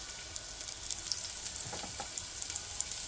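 Carrots fry in hot oil in a pan, right after potatoes, for a goat kaldereta, making a steady, soft hiss and sizzle with scattered crackling pops throughout.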